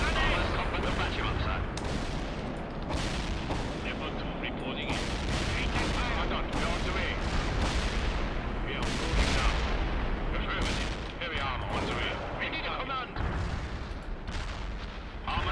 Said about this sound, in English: Whoa, danger close there with the bombs.